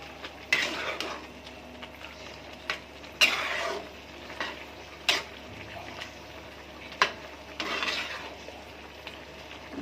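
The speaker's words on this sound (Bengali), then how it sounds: "এখন আমি আবার নেড়ে দিচ্ছি" Prawns and Malabar spinach fry in a pan, stirred with a utensil in sporadic bursts of scraping and clinking against metal, with quiet sizzling between the stirs.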